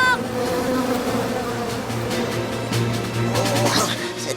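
A swarm of cartoon bees keeps up a steady, close buzzing drone for the whole stretch, with a character's voice speaking over it.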